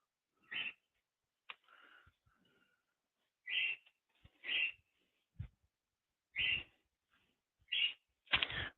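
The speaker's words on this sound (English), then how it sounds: "My birds are going crazy." Pet birds call indoors in short, sharp, high-pitched bursts, roughly eight calls spaced irregularly against near silence, each loud and clear, with a faint low thump in between.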